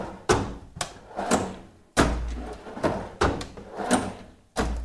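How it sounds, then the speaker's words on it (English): A wooden workshop drawer fitted with 3D printed plane holders slides open and shut repeatedly, giving close, rumbling runs that end in thumps at a steady pace. "When I open and close the drawer"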